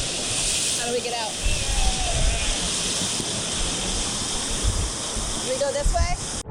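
A waterfall at Soufriere, St Lucia pours in a steady, loud broadband roar, with people talking and calling out over the constant rush of water.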